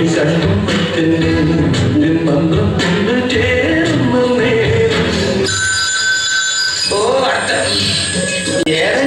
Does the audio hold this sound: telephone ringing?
yes